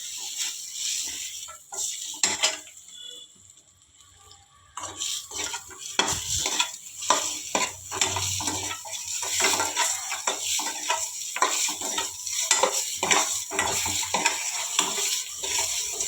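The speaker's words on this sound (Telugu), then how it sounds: "లైట్ బ్రౌన్ కలర్ దాకా వేపుకోవాలి అప్పుడే ఎగ్ మంచిగా టేస్ట్ ఉంటుంది" Eggs frying in a pan over a low flame for a village-style egg curry, a steady sizzle broken by repeated scraping and stirring clinks of a utensil against the pan, close and busy throughout.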